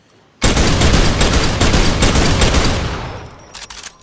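A sustained, dense burst of rapid video-game gunfire bursts in abruptly and roars loud and close for about three seconds, then thins and fades with a few scattered trailing shots.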